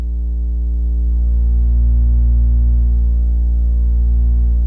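A Behringer Model 15 synthesizer oscillator holds a sustained, steady tone rich in harmonics, slightly distorted and flattened, with a gentle filter sweep shifting its upper overtones.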